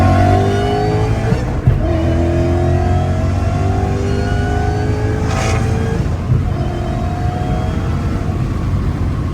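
A VMP-supercharged Ford Mustang S197 making over 600 wheel horsepower accelerates hard, its roaring engine climbing through the gears with rising whine and brief shift breaks, loud and continuous throughout.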